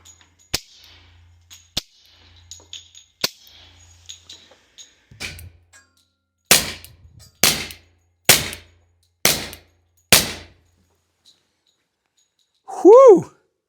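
A suppressed FN 510 pistol fires in a slow string of sharp, fairly quiet cracks, with a few fainter clicks and taps before them and a short vocal exclamation at the end.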